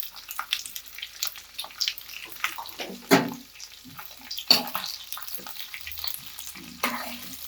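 Large onion pieces go into a pan of frying capsicum curry with yogurt, Gujarati style. A steady soft sizzle carries a few louder splashy bursts as the pieces land and are stirred, with no one talking.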